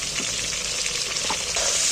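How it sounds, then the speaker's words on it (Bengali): Potato pieces seasoned with salt and turmeric fry in a pan, producing a steady close sizzle with light stirring throughout and no talk. "এইবার কিন্তু আমি আলুগুলোকে উল্টে পাল্টে ভালো করে ভেজে নেব"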